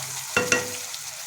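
Spoon scraping twice against a kadai as prawn and jackfruit curry with a little added water is stirred, two quick close strokes over a soft hiss.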